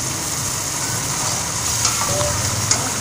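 Masala for chicken balti fries in ghee in a pan with a steady, close sizzle and occasional stirring scrapes throughout, with no one speaking.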